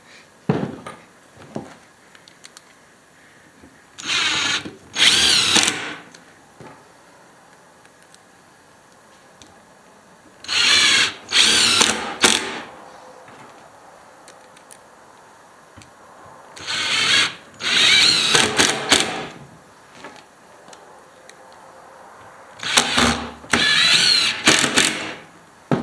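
Power drill driving screws into a wooden firewood box, four separate bursts of whirring, each a couple of seconds long and split by short pauses, loud and close with quiet gaps between.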